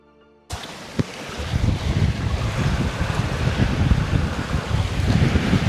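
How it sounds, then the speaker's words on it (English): A sailboat moving along the west coast of Montserrat, with strong wind buffeting the microphone and rushing water and waves against the hull, loud and continuous after a brief quiet start. "So this is us now sailing down at the west side of Montserrat."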